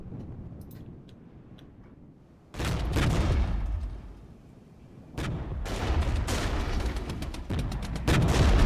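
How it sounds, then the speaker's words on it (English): Mortar fire in the Regiments war game, with several heavy booming bursts of impacts and gunfire arriving in waves, loud and close, rising and falling between quieter stretches of battlefield rumble. "Let's also get some fresh mortar fire down"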